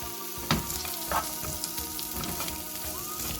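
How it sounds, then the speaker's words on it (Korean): Onion and carrot stir-frying in a little cooking oil, a steady close sizzle and crackle with a few soft stirring knocks in the pan, and no voices. "여기다가 식용유 조금 둘러주고 양파하고 당근 먼저 볶아줄게요"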